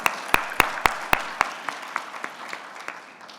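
Applause for Venezuela at a Latin American HIV workshop meeting: sharp, evenly spaced claps in a steady rhythm that grow softer and fade out.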